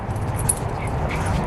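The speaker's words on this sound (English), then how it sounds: "this is Mia and Louie, my neighbor's dogs" Two excited dogs whimper and yip up close in a home, with jangling tags or keys and scuffling as they jump around, the sounds coming in short bursts with no talk.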